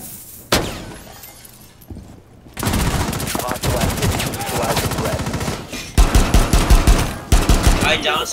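Gunfire rattles through a Rainbow Six Siege match, with loud rapid bursts and single cracks mixed with shattering glass and breaking debris, growing denser in the second half as a player talks.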